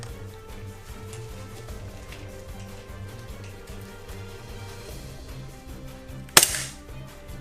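A Secutor Gladius 17 airsoft gun fires a single sharp, close shot through a chronograph near the end, after several seconds of low ambient rumble.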